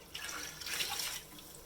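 Water running from a tap into an old, heavy pressure canner, a steady faint splashing flow that swells briefly in the middle of the clip and then settles.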